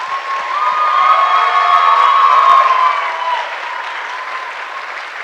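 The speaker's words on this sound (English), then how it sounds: "truly deserve a big round of applause from all" A large crowd gives warm, sustained applause for two young dancers at a Bharatanatyam-style Arangetram debut performance in Louisville, Kentucky, the clapping swelling and then easing off, with a faint tonal ring beneath it.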